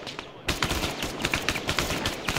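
Dense automatic gunfire in an Antistasi video game firefight, rapid overlapping bursts of shots, some near and some more distant, continuous across the clip.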